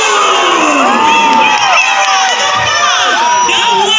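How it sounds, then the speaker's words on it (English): A large crowd cheers and shouts loudly and continuously at an outdoor Karbi Anglong Day festival in Diphu, India, with whoops and high-pitched yells rising over the roar. "make some noise for the one and only Shakti Kapoor"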